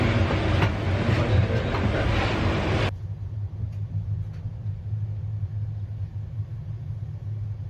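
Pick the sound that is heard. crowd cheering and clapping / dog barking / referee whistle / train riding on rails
train riding on rails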